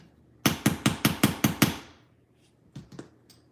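Ball peen hammer texturing a metal piece for jewelry, seven sharp, evenly spaced metallic strikes in a quick rhythm, then a pause and two or three softer taps.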